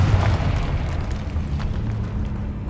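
A Confringo spell explosion in a video game sounds as a sustained low rumbling roar, loud and close, holding steady for a few seconds with no voices.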